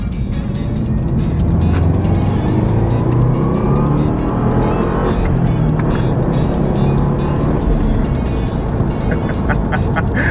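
A Subaru WRX pulls hard, its engine note a loud, constant rasp that climbs under acceleration, heard close from inside or beside the car.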